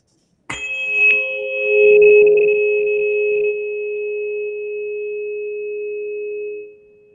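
A struck tuning fork rings out with a sharp attack, then a steady, pure sustained tone that holds for several seconds before cutting off, alone with no talking.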